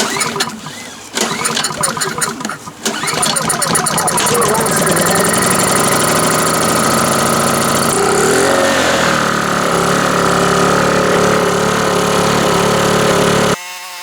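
A Honda 2000is portable generator engine, recently serviced with new spark plug, oil and air filter: a few quick pull-cord rattles, then it catches and settles into a loud, steady running drone that cuts off abruptly near the end.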